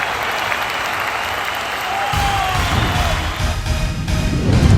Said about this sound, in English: please, let us give him a big round of applause